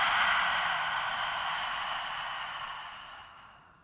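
A deep, breathy exhale through an open mouth during a gentle yoga flow, one long airy rush that starts strong and slowly fades over about four seconds, close and alone.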